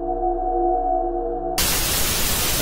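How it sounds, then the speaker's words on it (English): Harsh broadband static in the Geometry Dash video game cuts in abruptly partway through, replacing a low steady tonal hum and filling the rest of the clip loudly and continuously. "Stop that static."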